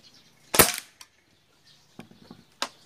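A single sharp shot cracks from a converted Taurus PCP air rifle firing a Meteor pellet. A few faint ticks and clatters follow in the quiet.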